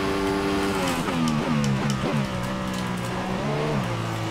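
An F1 race car engine in a PC racing video game screams and revs, with quick gear changes making the pitch drop and climb again several times, a steady loud whine from start to finish.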